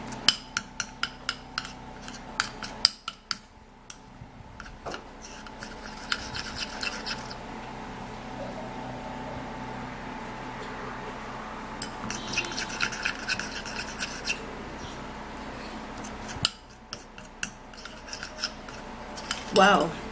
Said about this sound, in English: we'll mix the vitamin C plus the lemon together